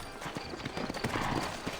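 A horse trots in the PC video game Red Dead Redemption. Rhythmic hoof clip-clops sound close and steady across the short stretch, with faint talk in the background.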